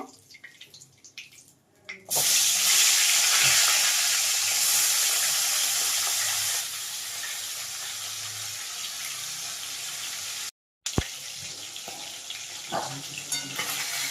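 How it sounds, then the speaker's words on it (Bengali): Fish (vola) frying in hot oil in a home kitchen: a loud, steady sizzle begins after two seconds, eases slightly midway, cuts out briefly near the end, then resumes with some clatter. No talking. "তো একইভাবে আমি বাকি মাছগুলো ভেজে নেব।"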